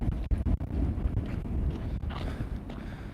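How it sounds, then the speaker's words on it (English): A big gust of wind blows outdoors and buffets the microphone, making a steady, loud, low rumble throughout with a few sharp knocks near the start and no voices. "There's a big gust of wind here."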